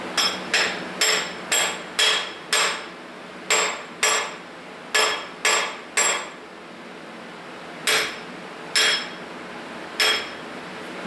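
A hammer taps on bolts threaded into a forklift engine part to break corrosion suction during a teardown; sharp metallic strikes come in quick regular runs, then slower spaced blows, close and loud with no talking.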